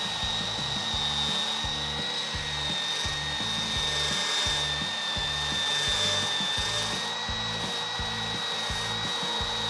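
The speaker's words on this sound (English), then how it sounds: "I'm gonna grab a wire wheel and I'm gonna clean up all my edges and get those all down to bare metal" A wire wheel grinds along steel panel edges during bodywork, stripping them to bare metal: a steady, loud, continuous abrasive whir with a sustained high whine and rapid rhythmic chatter underneath, running without a break.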